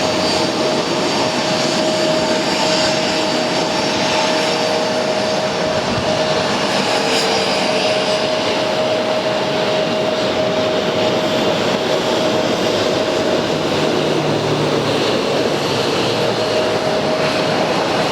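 A former TWA airliner's jet engines hum steadily at Atlanta's ATL airport, a continuous whine with a constant tone over a broad, rumbling roar, heard from a moderate distance without pause.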